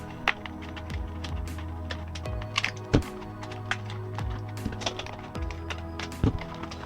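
Packaging around a Gillette Sensor3 shaving razor and its six spare cartridges being opened: scattered sharp taps, clicks and crinkles at close range over a steady low hum, with no talking.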